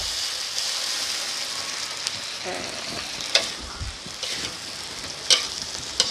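Okra and shrimp paste stir-frying in a hot pan, a steady close sizzle with scraping spatula strokes and a few sharp clinks, water drizzled in partway adding brief bursts of hiss.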